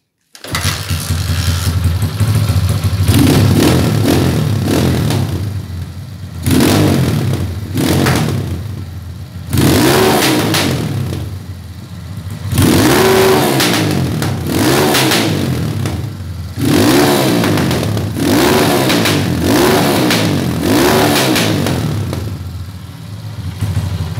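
A Honda CG 150 motorcycle fitted with a 70mm big-bore kit starts and revs hard in repeated bursts, each rising then dropping back to a rough idle, loud and close, with no talking.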